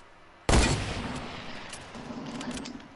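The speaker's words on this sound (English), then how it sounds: "I'm getting sniped from somewhere else." A single sharp sniper shot in Fortnite cracks out loudly, then rings off into a decaying rumble and faint scattered noise.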